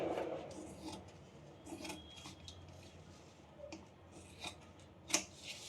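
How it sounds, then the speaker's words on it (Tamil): Scissors snip through blouse fabric in a quiet room, a series of soft, close rasping cuts with one sharper snip near the end, and no talking. "இப்போ இதை அப்படியே நம்ம கட் பண்ணி எடுத்துக்கலாம்."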